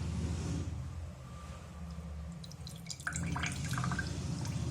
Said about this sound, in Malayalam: കുറച്ച് ലെമൺ ജ്യൂസ് ഒരു ഗ്ലാസ്സിലേക്ക് ഒഴിക്കുകയാണ്.